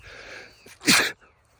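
A single sharp sneeze bursts out loudly and close, preceded by a brief inhaling buildup and followed by quiet.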